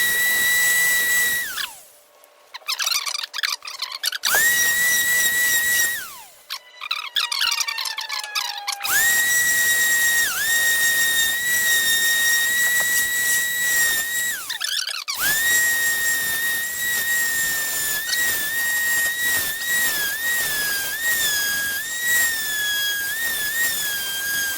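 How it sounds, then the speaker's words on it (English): A power sander working the edges of a wooden cutting board, a loud high-pitched whine that rises and drops as the tool starts and stops, with grinding contact noise during the long final pass. "now we're gonna sand down the edges"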